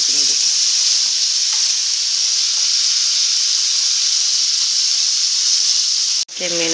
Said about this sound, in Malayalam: ചെറുതായിട്ട് വെള്ളം ഉണ്ട് കേട്ടോ, അതിങ്ങനെ പൊട്ടിത്തെറിക്കുന്നുണ്ട്.